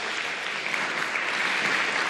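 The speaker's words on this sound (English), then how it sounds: "keep your applause to the end" Audience at an all-candidates debate for mayor and wards 1 and 2 claps steadily, a dense, even wash of applause lasting the whole moment with no voices over it.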